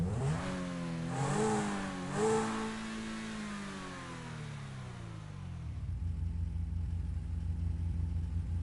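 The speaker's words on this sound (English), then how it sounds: "So you start up and it revs and revs." A supercar engine in GTA 5 cranks and fires up, then revs twice with rising and falling pitch before settling into a low, steady idle rumble.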